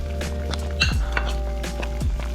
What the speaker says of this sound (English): I'm gonna go ahead and add some butter.